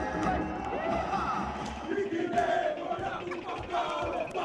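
A standing-room-only crowd at a college bowl pep rally by the Arneson River Theater on the San Antonio Riverwalk roars and cheers in a steady, dense wash, with voices shouting throughout.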